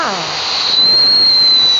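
A whistling firework, a fountain-style cracker in an online game, lets out a shrill sustained whistle over a loud steady hiss, close and continuous to the end.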